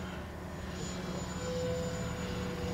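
An X-Fly Twin Otter 1800mm RC model plane flies overhead with a steady, even twin-motor drone that holds at moderate loudness throughout, swelling slightly as it passes, with no voices.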